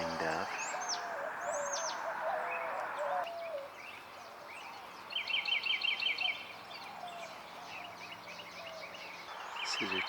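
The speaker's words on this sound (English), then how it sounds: "Some mourning dove." Mourning doves coo softly in a Texas state park, faint repeated calls mixed with other chirping birds and brief distant voices.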